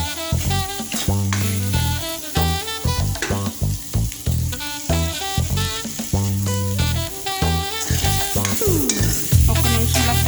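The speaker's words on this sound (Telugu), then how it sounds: "ఒక్క నిమిషంలో ఫ్రై చేసుకుందాం." Meal maker curry paste frying in a pan with a ground spice mix, a steady close sizzle broken by repeated scraping stirs and clinks of the spoon.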